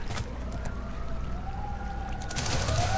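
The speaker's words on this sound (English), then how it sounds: "there's ambulances in the background, fire trucks actually, and a lot of them" Fire truck sirens wailing in the background, a steady far-off rising and falling tone over constant low rumble and noise, growing slightly louder toward the end.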